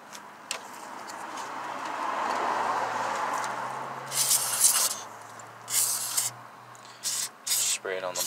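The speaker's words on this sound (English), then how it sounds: "Spray it on the bottom." Several short hissing bursts of aerosol engine cleaner sprayed close by on a 2007–2008 Nissan Sentra engine, separated by brief pauses, following a stretch of softer rubbing and scraping.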